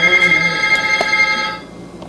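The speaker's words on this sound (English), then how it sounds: "There goes the phone. There it goes." An old house telephone rings loudly and close by, a steady electronic trill that fades out after about a second and a half.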